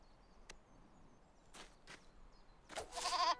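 Sheep bleat in an animated children's cartoon set in Europe, faint at first, with brief swishing sounds before a louder bleating burst near the end, all without talk.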